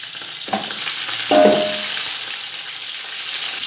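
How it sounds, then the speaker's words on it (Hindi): Beef trotters being browned in a pot give a loud, close sizzle, with two brief scraping stirs early on before the hiss settles into a steady crackle. "तकरीबन 5 मिनट पाए भूनने के बाद अब इसमें मिखें ऐड करेंगे।"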